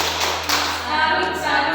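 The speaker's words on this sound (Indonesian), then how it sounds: "mari kita tepuk dengan tepuk salut" Classroom group of students clapping the Indonesian 'tepuk salut' routine, a few quick bright hand claps in a short burst, close and fairly loud.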